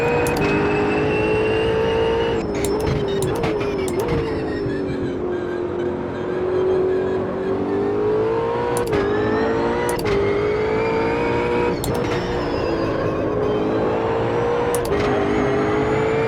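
A race car engine in Automobilista 2 drones loudly and steadily throughout, its pitch rising and falling through corners with brief gear-shift blips, and no talk over it.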